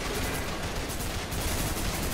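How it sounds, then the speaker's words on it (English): Enemy gunfire in the video game Trepang2 comes as a dense, continuous barrage of rapid shots, loud and sustained across the whole moment with no voice over it. "They just still shooting. They really want me dead."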